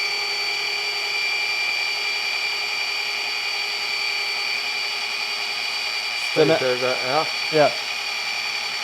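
A car paint polisher runs steadily while held still on a panel during paint correction, a constant whirring hum throughout with a few brief spoken words near the end.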